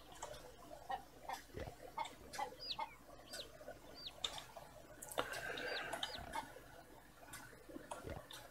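Chickens clucking in the farming video game Green Project, a string of short, fairly faint clucks and chirps repeating irregularly, with a brief fluttering burst midway and a low background hum.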